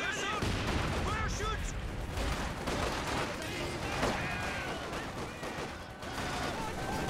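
Machine gun fire in a Company of Heroes 2 multiplayer battle, dense overlapping bursts and distant explosions forming a steady, busy combat din throughout.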